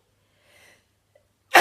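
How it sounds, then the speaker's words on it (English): A single sharp sneeze bursts out loud and close at the end, preceded by faint breathy sounds. "I'm going to sneeze."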